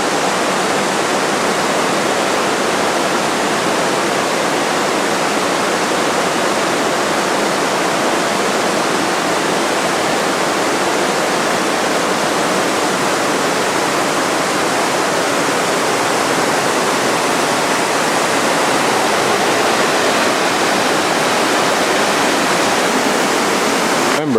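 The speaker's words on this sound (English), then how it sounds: "Merely have a beautiful stream perhaps to walk alongside for a while." Rushing stream in Vintgar Gorge, Slovenia, a steady, loud broadband roar of fast water that holds unbroken and close for the whole stretch, with no voices over it.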